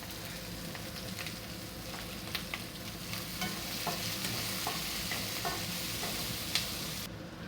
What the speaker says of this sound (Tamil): இப்போ நம்ம வெங்காயம் போட்டுக்கலாம்.